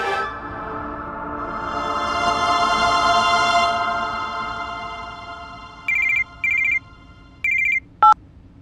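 A telephone rings in four short electronic bursts near the end, the last one brief and sharp, following a sustained musical tone that swells and fades.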